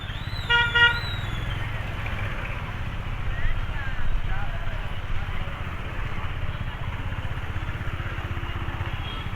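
Road traffic on a crowded route to a temple in Odisha, with a car horn tooting loudly near the start over a steady rumble of vehicles and a busy street din.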